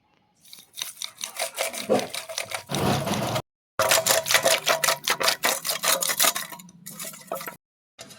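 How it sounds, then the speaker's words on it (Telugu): Yogurt with coarse salt is churned by hand into thick buttermilk, producing rapid rhythmic swishing and knocking strokes in bursts with brief pauses, close and moderately loud. "ఇప్పుడు దీన్ని చిలుక్కోవాలి, మజ్జిగలాగా చిలకాలి."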